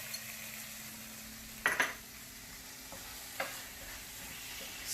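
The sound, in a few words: stirring salt into rajma masala in a pan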